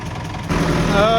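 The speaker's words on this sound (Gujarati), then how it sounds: "જીસીબીએ એની કામગીરી ચાલુ કરી દીધી છે" A backhoe loader's loud, heavy engine rumbles close by and revs up sharply partway through, with a steady mechanical drone, at a well renovation.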